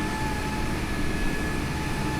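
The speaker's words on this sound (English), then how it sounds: "That's some crazy engine sounds." A big airplane's engines drone in a flight simulator at Colorado Springs airport, a loud, steady roar with a constant whine riding over it and no break or talk.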